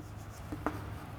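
Chalk or marker writing a formula on a classroom board, heard as a few faint, brief scratchy strokes over quiet room tone.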